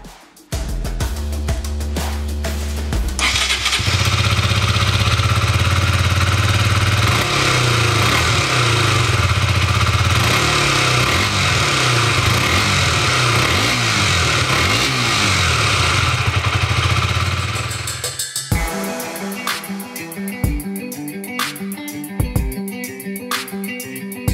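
A 2023 KTM 125 Duke single-cylinder motorcycle starts and idles, then revs up and down in repeated rising and falling sweeps, close and loud, before dropping back to a ticking idle with light clatter.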